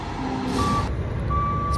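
A truck's reversing alarm beeps steadily at a loading site where heavy machinery is being loaded, the repeated tones sounding over a loud, constant engine rumble.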